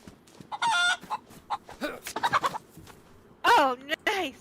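Chickens in the survival game DayZ cluck and squawk in loud, repeated bursts, with a couple of longer rising calls toward the end, close by and over quiet ambience.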